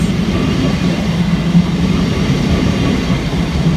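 Southeastern Class 375 electric multiple unit train rolling through Waterloo East station, a steady loud rumble of wheels and motors sustained throughout without a break.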